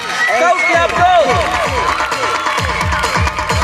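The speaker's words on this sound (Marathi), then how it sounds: "जोरदार टाळ्या झाल्या पाहिजे चिरके सरांसाठी" A school audience at an annual gathering and prize distribution in Chikhli cheers, whoops and claps for a teacher, a dense, loud crowd sound that continues steadily throughout, with voices shouting within it.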